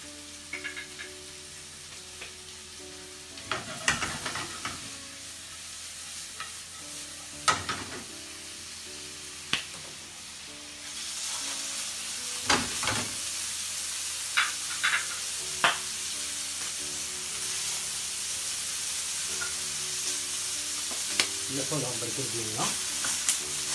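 Onions caramelize in a pan with salt and spices, a steady frying sizzle that grows louder partway through, broken by occasional sharp clinks and scrapes of stirring.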